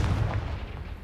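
The Confringo explosive spell goes off in the Hogwarts Legacy video game as a single muffled boom that rolls into a low, fading rumble, fairly quiet overall.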